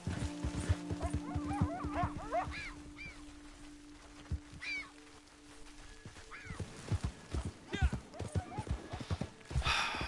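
Horse hooves clip-clopping in Red Dead Online, a rhythmic run of hoofbeats mixed with other game sounds, a dog-like bark and a tonal hum. Someone talks at times over the hooves.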